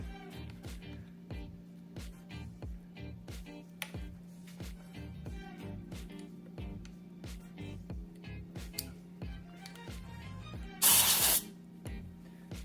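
A hand pump inflating an EVOLV Tour 2.0 electric scooter tire, with rhythmic regular strokes and soft clicks over a low hum, then a short sharp hiss of air near the end.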